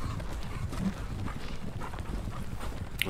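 Cavalry horses gallop in the Napoleonic wargame Napoleonic Battles Leipzig, a dense, continuous clip-clop of hooves at moderate loudness, with no talk.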